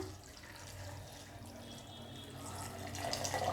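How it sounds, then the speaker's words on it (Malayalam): Water is poured into a mixer jar over chopped beetroot and small ginger pieces for juice, making a soft, continuous splashing trickle that grows slightly louder toward the end. "ഇനി ഇതിലൂടെ കുറച്ച് വെള്ളം ഒഴിച്ചു കൊടുക്കാം."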